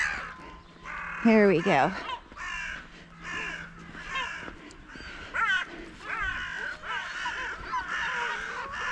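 Several crows caw repeatedly outdoors in a grassy field, harsh calls coming in bursts over a steady background, with someone speaking briefly between them.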